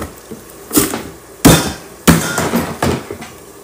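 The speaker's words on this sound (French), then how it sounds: "je vais venir découper l'oignon ici" Knife chopping an onion on a cutting board in a home kitchen, about five sharp, loud chops spaced in a loose rhythm with brief pauses, no talking.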